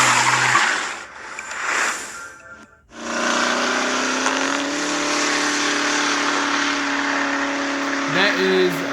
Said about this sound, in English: That is the Koenigsegg Regera.